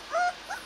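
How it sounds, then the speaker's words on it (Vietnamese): Rottweiler puppies make a short whimpering yip and then two softer whines, close by and faint, with no talking. "Nô nhau nó gầm gừ lép quét rồi đấy"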